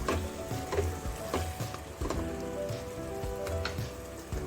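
Spiced masala for a Sunday-special chicken biryani frying in hot oil, giving a steady close crackling sizzle with faint stirring scrapes and small pops throughout, no voices.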